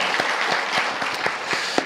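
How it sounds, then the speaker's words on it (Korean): Hearty clapping from a church congregation after testimonies at a Sunday service, with many hands blended into a steady roar and a few sharper individual claps standing out. "우리 간증해 주신 우리 8분에게 다시 한 번 더 큰 박수 드리겠습니다"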